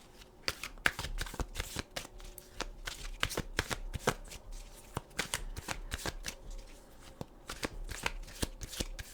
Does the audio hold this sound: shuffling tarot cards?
yes